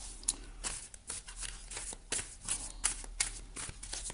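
A deck of oracle cards is shuffled by hand in a quiet room: a continuous run of close, crisp papery riffles and slaps with irregular bursts, and no voices.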